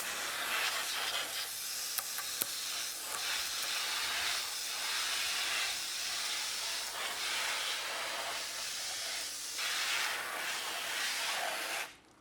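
A water sprayer with a fan nozzle blasts a fence clean, producing a steady close hiss of spray that swells and dips in gentle surges as it sweeps the boards, then cuts off abruptly at the end.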